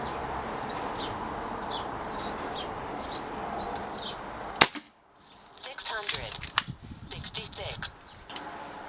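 A Kral Puncher N-07 air rifle fires a pellet with a single sharp, loud crack partway through, followed by rattling handling noise, with birds chirping in the background.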